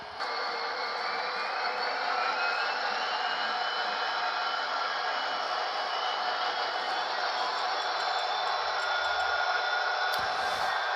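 Model DCC locomotives' sound decoders playing motion sounds in unison, a steady droning diesel-like rumble with a faint rising whine, continuous and even throughout, heard close with no talk.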